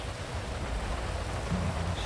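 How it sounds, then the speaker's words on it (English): Heavy rain pours steadily in GTA V, a dense continuous hiss of downpour with low rumbling underneath, loud and unbroken throughout. "The rain's too fucking loud."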